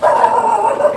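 A dog near a small shop barks and whines in one continuous, loud, close burst, with no talking over it.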